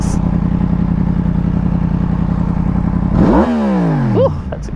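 A Yamaha MT-10 SP motorcycle engine idles with a rough, pulsing rumble, then revs up sharply twice, each rise falling away again, close and loud.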